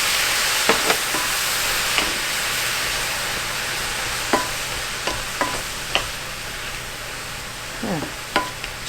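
Mushrooms cooking in a pan with added moisture, a steady loud hiss of steam and sizzle with scattered clicks and scrapes of stirring.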